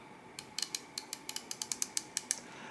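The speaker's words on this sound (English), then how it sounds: "We have 120 click unidirectional bezel, and so really nice. You can hear that click." Ratcheting clicks from the 120-click unidirectional bezel of an ADPT Series 1 Dual-Time watch: about fifteen crisp, faint, close-up ticks in an uneven run, with no voices.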